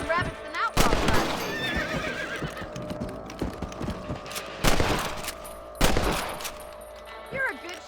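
Rifle shots at rabbits in Red Dead Redemption: a few sharp, widely spaced loud cracks ring out over horse whinnies, clip-clopping hooves and speech.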